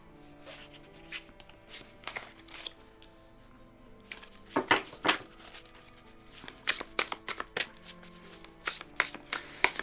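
Tarot cards are shuffled and dealt in quick papery riffles and slaps, sparse at first, then denser bursts of shuffling with cards flicked down, close and clear with no talk.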